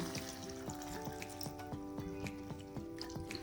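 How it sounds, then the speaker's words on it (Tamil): Water poured from close by over pineapple pieces spread in a pan for pineapple pachadi, a steady splashing trickle with small repeated drips and clinks running continuously. "இது சப்மர்ஜ் ஆகிற அளவுக்கு நம்ம வந்து தண்ணி ஊற்றி விட்டுடலாம்"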